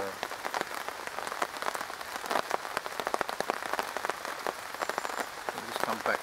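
Rain pattering on tarps at an outdoor camping meet, a dense, close crackle of drops with irregular louder taps, continuous throughout, with faint voices underneath.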